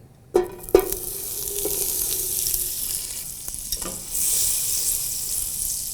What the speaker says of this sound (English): I will let the butter brown a little bit